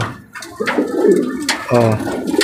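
Two male pigeons fight inside a coop, cooing and scuffling close by in short, throaty bursts with wing and body noise, with someone talking faintly underneath.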